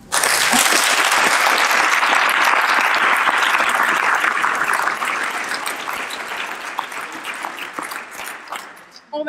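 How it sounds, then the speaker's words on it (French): An audience applauds teachers being thanked: loud, dense clapping from a large group that holds steady, then thins and fades toward the end. "qui méritent qu'on les applaudisse aussi"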